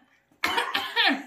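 A woman gives a short burst of two or three close, loud coughs right after a moment of near silence.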